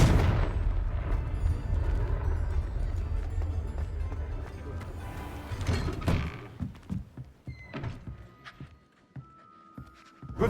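A Confringo fire spell goes off in Hogwarts Legacy: a dense, roaring burst of booming fire and rumble that fades after about six seconds into scattered sharp impacts and clatter, with a voice speaking over it.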